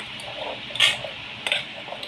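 Mango pickle in oil gets stirred in a container, giving a couple of brief clinking scrapes of a spoon against the sides over a quiet background.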